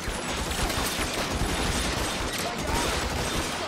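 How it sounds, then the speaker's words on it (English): Sustained gunfire in the crime video game L.A. Noire forms a dense, continuous roar of shots and noise, loud and close, with little break for the full stretch. "I barely hear myself think over all this gunfire."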